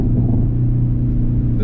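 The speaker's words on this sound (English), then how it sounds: "It's his brand new 2021 Veloster N. Taking it out for a drive." A brand new 2021 Hyundai Veloster N drives along with a steady, low engine rumble heard from inside, constant and fairly loud with no talking.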